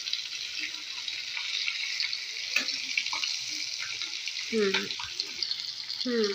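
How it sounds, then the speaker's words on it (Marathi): Fish fillets frying in a pan, a steady bright sizzle running throughout with occasional soft clinks and brief low voice sounds in the background. "तुम्ही बघू शकता आता मी हे मासे पलटून घेतलेले आहेत. व्यवस्थित फ्राय सुद्धा झालेले आहेत."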